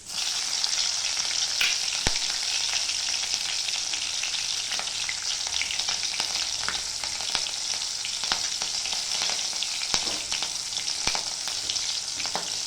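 Green chillies and onion frying in oil in a pan, giving a dense, even sizzle that holds for the whole stretch, dotted with occasional sharp pops and spatters, with no voices.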